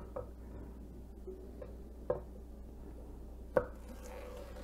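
Celery being chopped with a knife on a cutting board for mirepoix, three sharp, separated knife strikes in a quiet kitchen over a low steady hum.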